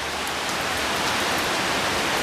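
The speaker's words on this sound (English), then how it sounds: "It's raining, like, thick. Big old fat rain." Heavy, thick rain pours down steadily in an outdoor evening setting, a dense, continuous hiss of big drops hitting surfaces, loud and close throughout with no talk.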